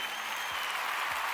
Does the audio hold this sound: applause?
yes